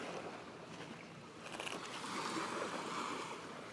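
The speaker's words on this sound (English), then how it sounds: "I hear the ocean." Ocean surf at a beach where people dig for clams and seashells, heard as a steady broadband wash that swells louder midway, continuous with no voices.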